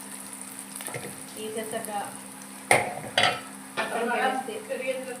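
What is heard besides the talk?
eggs frying in a pan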